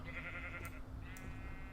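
Sheep in the video game Minecraft, SevTech modpack, bleating twice in quick succession, clear and close, over a steady background hum with no talking.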